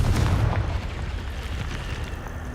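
A Confringo blasting spell explosion in the video game Hogwarts Legacy: a loud, close boom with a heavy low rumble that decays into a sustained roaring wash, with no voices.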